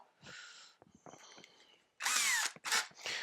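A power drill whirs in short bursts, a couple of brief revs followed by two louder, closer spurts of drilling into timber for a WBC beehive floor.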